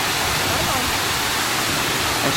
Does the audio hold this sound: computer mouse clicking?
no